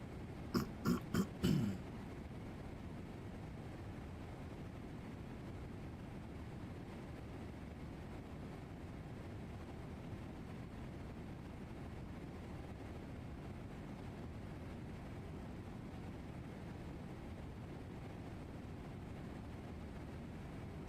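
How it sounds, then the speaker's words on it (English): Steady low jet-engine rumble from Boeing 777F engines in a flight simulator sound pack, DHL Air UK operations at East Midlands, continuous and even throughout, with a few sharp clicks at the start and no talking. "I want to hear the engines."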